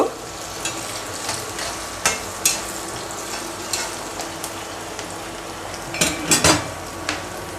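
A spoon stirs an egg and kohlrabi stir-fry in a frying pan, giving repeated scraping clinks against the pan over a steady sizzle, close and fairly loud, with no talking.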